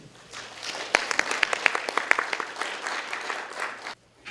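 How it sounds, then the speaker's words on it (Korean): A studio audience on a Korean TV program gives a welcoming round of applause as an inventor of an umbrella product comes forward. Several crisp, close claps ring out over the steady clapping before it stops abruptly. "환영의 박수 한번 쳐주시죠"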